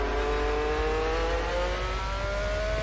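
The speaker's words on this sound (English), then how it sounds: "I think this is a flat 12 in this car." A flat-12 Formula 1 car in the Assetto Corsa racing game, its engine note rising smoothly as it accelerates, steady and loud throughout with no talk.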